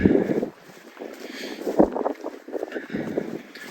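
Wind gusting across open countryside fields on a walk in Leicestershire and Rutland, buffeting the microphone with loud, close rumbling bursts that rise and fall.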